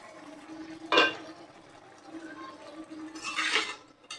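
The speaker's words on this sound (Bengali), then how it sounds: "বটবড়ি দিয়ে আলু দিয়ে রুই মাছ রান্না করতেছি।" Rohu fish cooking with potatoes and bori in a pot: a couple of clanks and scrapes from a utensil stirring against the metal pot, close by, with a soft simmer between them.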